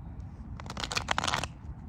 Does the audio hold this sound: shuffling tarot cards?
yes